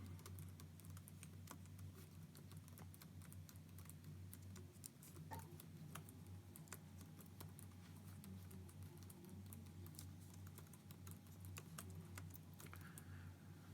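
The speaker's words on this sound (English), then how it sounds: "I'll just press a few keys for a little bit so you can kind of hear the response that you get" Keys tapped steadily on a Google Pixelbook laptop keyboard, a string of light, quick clicks over a low steady hum, close and fairly quiet.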